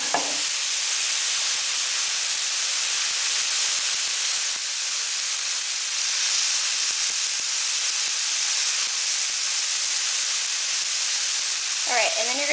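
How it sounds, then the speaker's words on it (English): Meatballs frying in a pan, for cabbage rice, give a steady broadband sizzle and hiss that holds evenly throughout, with a brief voice-like sound at the very start and near the end. "then you're going to fry this together for 10 minutes"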